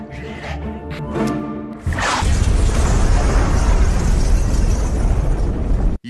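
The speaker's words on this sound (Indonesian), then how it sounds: "akibat ledakan tersebut" A loud explosion erupts in the action film Pretty Lethal (2026), a heavy booming blast that rolls into several seconds of sustained roaring rumble after a brief stretch of voice and score.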